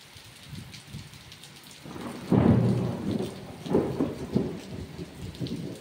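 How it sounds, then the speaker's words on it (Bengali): A loud rumble of thunder rolls in over steady rain, swelling around the middle and fading in a few deep rolls, with no voices. "শুনতে পেলে কত জোরে একটা বিদ্যুৎ চমকাইলো"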